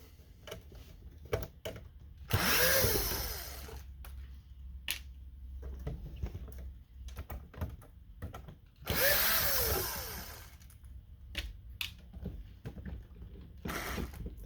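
Xbox Series X console being opened with a handheld power screwdriver, two bursts of whirring as screws are backed out, separated by small clicks and handling noises of plastic parts, close and fairly quiet.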